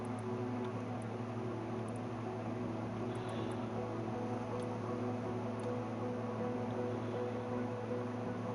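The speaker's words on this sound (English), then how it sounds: "So that's a small plane." Small plane engine in Microsoft Flight Simulator, a steady low drone holding evenly throughout with no change in pitch or level, alone with no voices.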